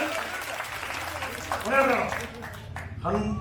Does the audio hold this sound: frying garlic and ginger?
no